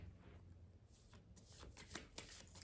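An Art of War oracle card deck being shuffled, soft riffling and sliding of cards close by, quiet and continuous with a few sharper flicks near the end.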